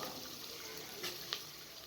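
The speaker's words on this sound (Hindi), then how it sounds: "इसके अंदर अदरक और लहसुन को शामिल करके भून लें, हल्का सा भून लें" Ginger and garlic frying in a pan, a steady soft sizzle with two brief stirring scrapes, close up but quiet, with no talking.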